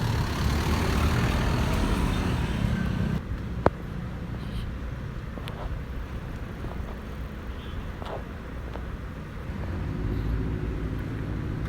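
Street traffic with a jeepney rumbles in a Manila street: a steady low engine drone and passing vehicles, a brief sharp knock, then continuing road noise at moderate distance, with no talking.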